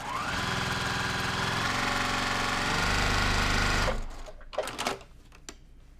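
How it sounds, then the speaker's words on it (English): Sewing machine with a quarter-inch foot stitching a quilt block, a fast continuous mechanical whir that runs steadily for about four seconds and then stops, followed by a few clicks and fabric handling noises. "So I'm going to put the 1/4 inch foot, and then I'm just going to sew."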